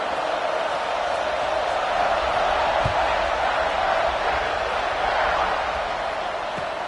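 Football stadium crowd before kickoff, a dense, sustained roar of many voices at a steady level, distant and diffuse, with no single voice standing out.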